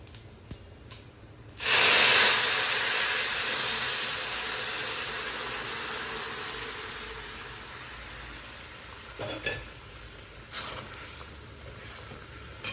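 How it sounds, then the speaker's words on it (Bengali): Lentils for dal poured into a hot pan with fried onion, garlic and five-spice, erupting in a sudden loud sizzling hiss that slowly fades into a steady simmering crackle, with a few faint clinks later. "এখন হচ্ছে ডালগুলো ঢেলে দেবো।"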